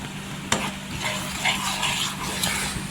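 Gram flour (besan) roasting in a pan on low heat, stirred with a soft scraping and faint sizzle, close up, with a single sharp clink near the start.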